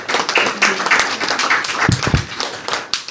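Clapping and applause at a government press briefing for a woman who won a Best Producer award, a steady spread of hand claps filling the room at moderate loudness.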